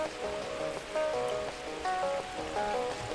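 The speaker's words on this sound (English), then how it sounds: "I only hear running water." Running water in a video game, a continuous trickling stream with bright splashing flickers, fairly close and steady throughout, no voices.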